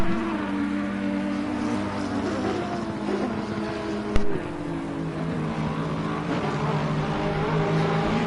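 Race cars including an Audi, a Ferrari and a Lexus battle at the Nürburgring in a racing video game, their engines droning and whining steadily and close, with one sharp click or thud partway through.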